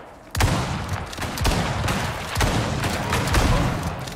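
Rapid gunfire fired at a polar bear in the survival game Icarus, loud and close, in dense bursts with sharp repeated shots across the whole moment, no voices.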